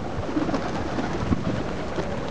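A flock of pigeons coos and shuffles close by under steady outdoor background noise, with no voices over it.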